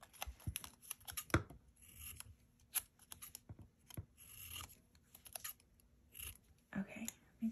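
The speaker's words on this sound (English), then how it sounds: "I'm just gonna snip some off the bottom." Scissors snip a piece off a sheet of planner paper, giving several quiet, crisp cuts among soft paper rustling and handling noises, close to the microphone.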